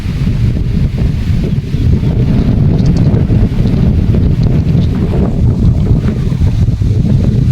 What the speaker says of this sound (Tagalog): Lakas ng hangin, ganda.